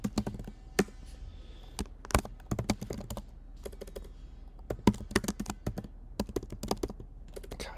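Irregular bursts of keystrokes on a computer keyboard while setting up a bare-bones C++ program, close and fairly quiet, with short pauses between clusters of taps and no talking.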